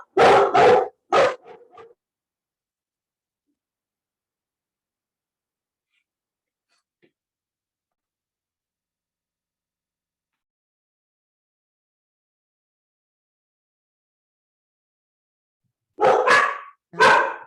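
Dogs bark in two short bursts of a few sharp, close barks each, separated by a long stretch of near silence.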